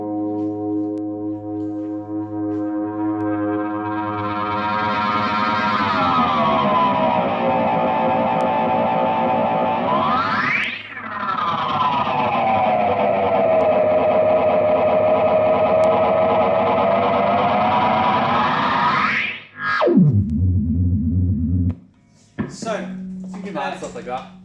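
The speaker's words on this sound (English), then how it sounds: "that regeneration thing, like in self-oscillation, is one of the unique things" Analog delay pedal pushed into self-oscillating regeneration, a loud, swelling, howling feedback tone whose pitch sweeps up and down as knobs are twisted, then cut off abruptly, followed by brief repeating echoes.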